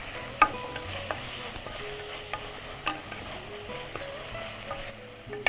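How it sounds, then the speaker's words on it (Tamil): Three green chillies sautéing in a pan on a cooking show, a continuous close sizzle with repeated scraping stirs and small utensil knocks, no talking. "போட்டு இதையும் நல்லா வதக்கிறோம்."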